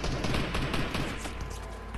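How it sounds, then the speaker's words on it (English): Rapid gunfire from a bot fight in Fortnite rattles steadily in a dense burst of overlapping shots, loud and close, with no talking. "Now he's shooting at him."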